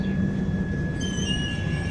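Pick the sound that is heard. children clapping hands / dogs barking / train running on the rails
train running on the rails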